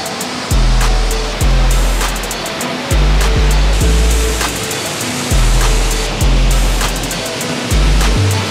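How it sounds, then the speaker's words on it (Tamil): River water roars loudly and continuously at Hogenakkal, with a distant waterfall blending into the wash and deep thumps recurring every second or so. "அதுக்கப்புறம் தூரத்தில் ஒரு ஃபால்ஸ், இந்த தண்ணி சவுண்டு மட்டும்தான் கைஸ் கேட்குது"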